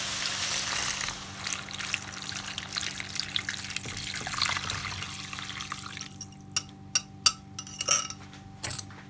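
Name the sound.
pouring a litre of vegetable stock into soup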